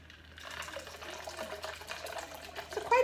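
Coconut water pours steadily into a blender for a pineapple smoothie, a continuous close liquid splash and trickle that swells slightly toward the end.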